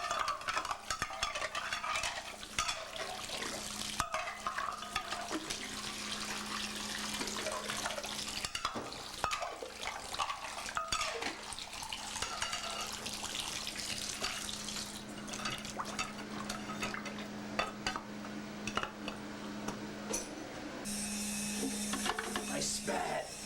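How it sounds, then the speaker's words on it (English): Water running from a tap while hands are washed at a sink, a steady splashing stream with faint dripping and stirring sounds that continues nearly throughout. "I washed my hands like I always do."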